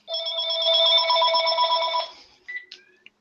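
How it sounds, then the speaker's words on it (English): A telephone rings with a loud, bright electronic trill lasting about two seconds, followed by a few short fainter beeps before going quiet. "Answer that phone."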